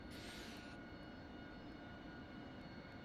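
Aircraft engines spool up around a Harrier jet cockpit in a VR flight simulator, a steady, faint, distant drone with a brief high whine at the very start.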